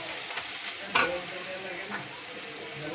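Masala frying in a pan on a low flame, a soft steady sizzle with a brief scrape or stir near the one-second mark, close and quiet.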